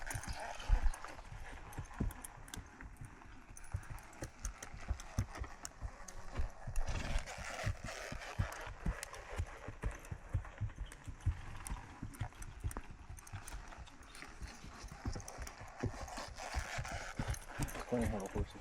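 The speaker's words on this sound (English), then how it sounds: "funny how horses walk" Horse hooves clopping on the ground at a steady walking pace, close by, with occasional soft snorts and faint voices in the background.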